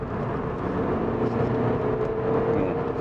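A BMW G-body car with a transfer case fault accelerates smoothly, its engine giving a steady, even hum and whir from inside the cabin with no surging.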